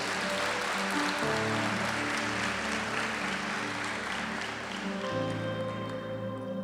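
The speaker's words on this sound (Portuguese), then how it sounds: "Você pode aplaudir mais uma vez ao Senhor em nome de Jesus" A church congregation applauds the Lord, a steady wash of clapping that fills the room over soft sustained music and carries on for several seconds.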